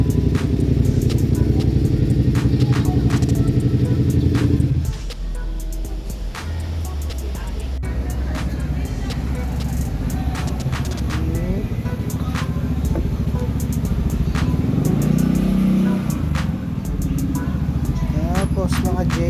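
Honda CB400 motorcycle engine idling after carburetor jetting: a continuous close, loud running drone that shifts pitch partway through and briefly swells later, with voices speaking over it.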